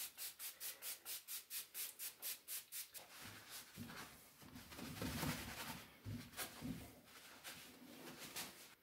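A cloth wipes soot from the glass door of a wood-burning stove, starting with rapid rhythmic back-and-forth rubbing strokes, then turning to slower, rougher scrubbing, all close up and fairly quiet.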